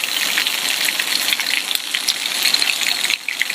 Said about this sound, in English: And then this morning, rain.